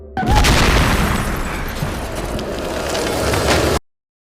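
A loud, sudden blast followed by a sustained rumbling roar that fills the space for several seconds before cutting off abruptly.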